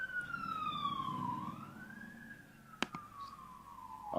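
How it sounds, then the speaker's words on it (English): Siren sounding at 11 a.m., a single faint, distant wail slowly falling, rising and falling again over quiet background, with a sharp click partway through. "Sirens on the dot."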